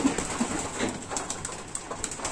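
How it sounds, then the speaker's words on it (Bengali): Pigeons in a loft coo softly and repeatedly at close range, low throaty calls rolling over one another with faint rustling in the background. "আপনারা দেখতে পাচ্ছেন যে কবুতর খাওয়ার জন্য কি করতেছে"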